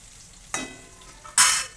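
Chopped onion hits hot tempering oil in a pan, sending out two short, loud bursts of sizzling about a second apart over a quiet background.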